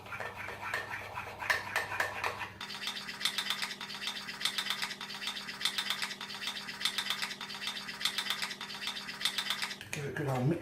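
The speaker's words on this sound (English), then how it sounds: "There's the stuff in there, look, mixing it up." Chocolate chip pudding batter stirred in a mug with a spoon, a close, steady scraping and clinking that repeats rhythmically against the ceramic, with a tonal hum and a little talk at the start and end.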